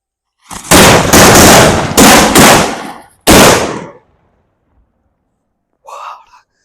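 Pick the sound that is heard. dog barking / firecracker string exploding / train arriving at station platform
firecracker string exploding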